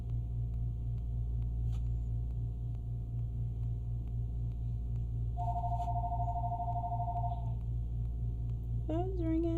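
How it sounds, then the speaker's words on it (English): A phone rings with a steady electronic tone for about two seconds midway, faint and somewhat distant above a constant low engine-like rumble, with a brief voice at the very end. "Phone's ringing."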